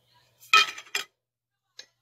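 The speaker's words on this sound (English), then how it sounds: "let me use tissue to clean my spoon" A spoon is wiped clean with a tissue: two quick close-up bursts of rubbing and clinking, then a short silence and one faint tap.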